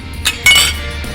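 Beer glasses clinking together in a toast at a brewery, two bright short chinks close up, the second louder and ringing briefly, with a low room hum beneath.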